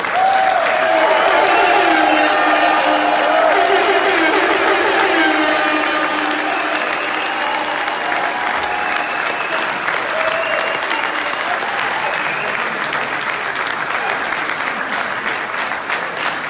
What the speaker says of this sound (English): One big applause. One bigger applause.